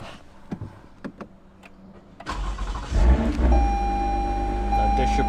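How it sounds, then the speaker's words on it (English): Toyota Camry TRD engine cranking and catching, a few clicks and small knocks first, then the starter whir and the motor firing into a steady idle, close by and loud. "let me go start the car."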